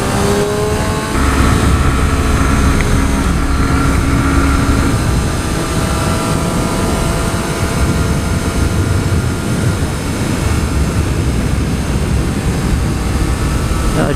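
A 2014 Triumph Street Triple R being ridden makes a loud, continuous engine drone mixed with heavy wind rush that stays close and steady throughout, without speech.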